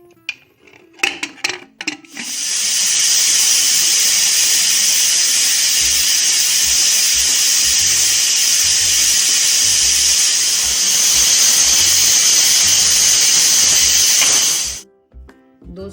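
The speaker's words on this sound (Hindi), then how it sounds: "दो सीटी आ गई थी, प्रेशर निकल गया है।" A pressure cooker cooking sambar on a medium gas flame gives a few clattering knocks, then a loud, continuous steam hiss that lasts over ten seconds before cutting off abruptly.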